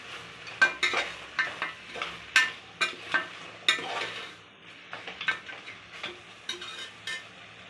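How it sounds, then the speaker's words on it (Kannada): Green masala for Mandya-style mutton sambar is stirred and fried in a pan. A spoon scrapes the pan in a steady series of sharp, close strokes over a low, constant sizzle, with no voices. "ಒಂದು 5 ನಿಮಿಷ ಚೆನ್ನಾಗಿ ಎಲ್ಲ ಮಿಕ್ಸ್ ಮಾಡಿ ಹಸಿ ವಾಸನೆ ಹೋಗೋ ತನಕ ಫ್ರೈ ಮಾಡ್ತೀನಿ"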